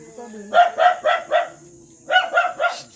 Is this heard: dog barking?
yes